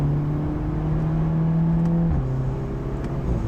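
Volkswagen Golf R engine humming steadily under load, a sustained drone that drops in pitch partway through as it shifts, continuous and close with no voices.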